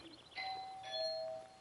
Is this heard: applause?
no